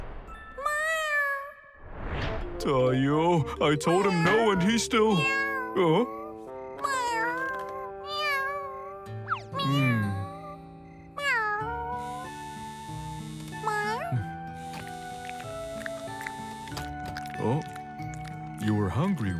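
Several high, wavering cat meows from a hungry cat in the Tayo cartoon sound up close, interleaved with animated talking voices and musical tones.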